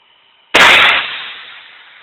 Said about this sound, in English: Doing some redneck fireworks.